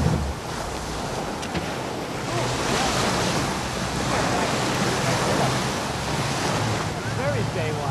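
Cold Atlantic surf rolls in steadily at Lighthouse Beach on Cape Cod, a continuous wash of breaking waves with gusting wind buffeting the microphone throughout.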